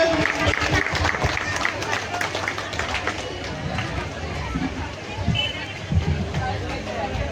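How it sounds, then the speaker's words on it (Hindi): A crowd claps steadily at a Vishwakarma Puja celebration in Naigaon, Mumbai, dense applause filling the space with voices murmuring underneath. "सभी लोग ताली की गड़गड़ाहट बजनी चाहिए।"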